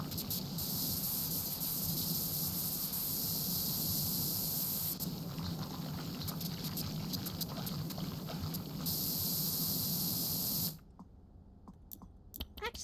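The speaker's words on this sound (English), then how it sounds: "time to switch to the power blower" A power blower sprays steadily in PowerWash Simulator, a constant close hiss with fine clicking textures that runs for several seconds before cutting off abruptly near the end.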